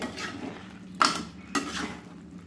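A spoon stirs mixed vegetables thickened with cornflour in a pot for a Bengali labra, making two distinct metallic clanks against the pot over a soft, low background.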